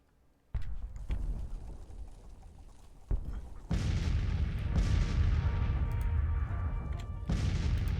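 Cannon fire in a Civil War battle at Chancellorsville, heavy booms breaking out suddenly and rolling into a sustained, loud rumble of artillery and musketry.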